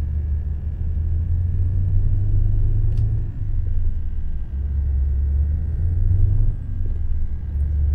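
Scania S730 truck engine from 2017 in Euro Truck Simulator 2, lightly loaded at night, droning as a steady deep rumble that surges and eases slightly, revving somewhat high, with no talk over it.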